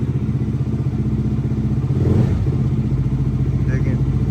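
A Benelli TNT 25 motorcycle engine idles at slightly raised revs just after a cold start, with a steady, close, rapid pulsing and a brief louder swell in the middle.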